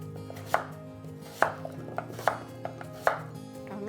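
A knife slices through radish for kkakdugi kimchi in a handful of separate, crisp chops spaced about half a second to a second apart, close by and clear.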